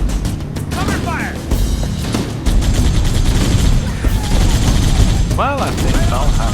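Bursts of rapid automatic gunfire and booms from the Halo Master Chief Collection video game on Xbox One, continuous and loud battle noise with voices talking over it.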